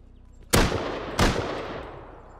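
Two sharp gunshots in the survival game Rust, under a second apart, each cracking loudly and then trailing off into a long echoing tail.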